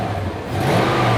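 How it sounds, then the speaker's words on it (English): A healthy Toyota car engine with no misfire revs up briefly, rising from a steady hum to a louder whir close by, with no talking. "Rev it up."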